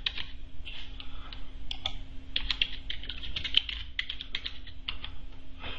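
Fast typing on a computer keyboard, entering a command in a MySQL session, comes as crisp, close clicks in quick irregular bursts with brief pauses, no talking over them.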